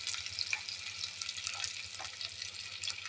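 Onion, mustard seeds and curry leaves frying in hot oil in a kadai for masala lemon rice, giving a steady, close sizzling hiss with small crackles and pops throughout.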